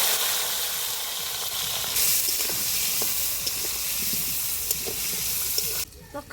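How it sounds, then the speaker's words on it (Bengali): Potatoes coated with turmeric and salt hit hot oil in a home kitchen, setting off a loud, continuous hissing sizzle that holds steady before dropping away abruptly near the end. "এই যে হলুদ লবণ দিয়ে রাখা আলুটা এবার গরম তেলে দিয়ে দেব।"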